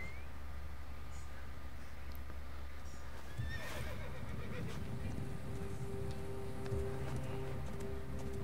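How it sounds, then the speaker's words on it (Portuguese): A horse in Assassin's Creed Origins whinnies loudly over steady background hum, followed by a few hoof clops and snorting as it comes near. "Agora sim, chamar o cavalo."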